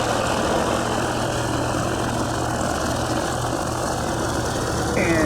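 A light aircraft engine drones loud and close at Spirit of St. Louis Airport, a dense steady roar with a low throbbing hum that holds evenly throughout, faint radio chatter buried underneath.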